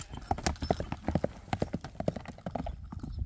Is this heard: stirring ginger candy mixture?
no